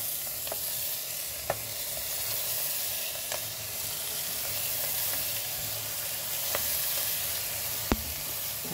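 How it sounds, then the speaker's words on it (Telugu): Fenugreek and dwarf copperleaf greens fry and get stirred in a pan, giving a steady close sizzle with occasional soft scrapes and clinks of a spoon, with no talk. "మనము ఆకుకూరలు వేసుకుందామమ్మా."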